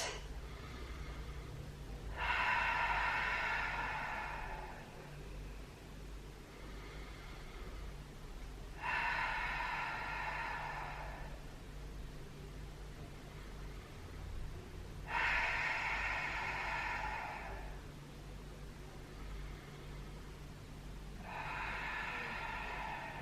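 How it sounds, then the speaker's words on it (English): Slow, deep breaths drawn in through the nose and let out through the mouth during a guided full-body workout, four long, airy exhale-like bursts at even intervals, close and fairly loud over a low steady background hum. "in through the nose and then exhale out through the mouth"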